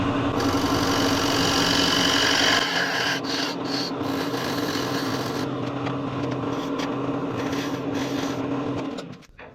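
A lathe turns a piece of wood while a tool cuts a tenon, giving a loud continuous scraping, rasping sound with a steady motor hum beneath, fading out at the end.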